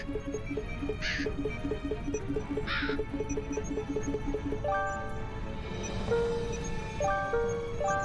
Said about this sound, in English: Are those crow noises?